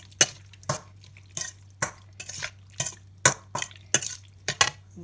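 Spoon repeatedly scraping and clacking through mushroom larb in a pan, about a dozen sharp close strokes in an uneven rhythm over a low steady hum, no voices.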